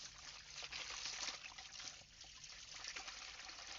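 Dirty water drains and trickles steadily from a pair of freshly washed shoes, a continuous close splashing flow with no talking.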